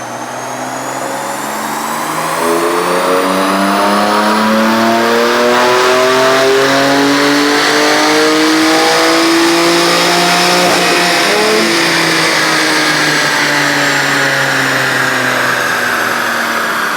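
A BMW 340 with a stage 2 plus tune revs hard on a dyno in Sport Plus mode, its engine note climbing steadily and holding loud and close for a long sustained pull with no talking.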